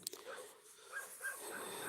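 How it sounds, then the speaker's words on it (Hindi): Dogs bark outdoors, faint and distant, with a few short yips and whimpers during a quiet recording. "कुत्ते भी भौंकने लगे यहाँ"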